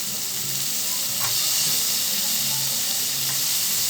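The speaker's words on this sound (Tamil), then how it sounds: "சேர்த்திட்டு இது கொஞ்சம் நேரம் வதங்கட்டும்." Diced potato sizzling as it sautés in a pan with spices for a spinach and brinjal curry, a loud continuous crackling hiss with a few faint stirring clicks and no talk.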